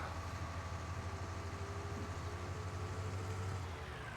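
A tractor drives in Farming Simulator 19, a steady low engine drone that is fairly quiet and unbroken throughout.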